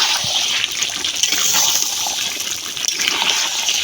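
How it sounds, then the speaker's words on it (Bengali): Water from a rinsed dish poured into a pan of duck curry cooking in its own fat, a loud close gushing splash with bubbling sizzle throughout, no voices. "যে ডিশে আমি হাঁসটাকে মাখায় রাখছিলাম সেই ডিশটা ধুয়ে একটু পানি দিয়ে দেবো"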